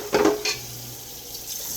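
A ham hock goes into a pot of water for cooking beans, giving a short watery splash and clatter of pot and utensils near the start, then quiet kitchen room tone.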